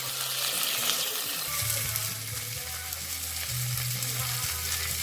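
Meat browning in a pan, a steady loud sizzle and crackle that continues throughout while being stirred, close up with a low hum underneath and no speech.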